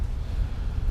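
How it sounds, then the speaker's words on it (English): Wind buffets a microphone outdoors by the water, a dense low rumble with irregular gusty thumps filling the whole second. "pardon the wind noise, it's windy"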